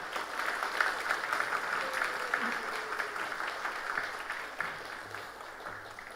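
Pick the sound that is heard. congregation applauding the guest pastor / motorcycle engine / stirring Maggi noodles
congregation applauding the guest pastor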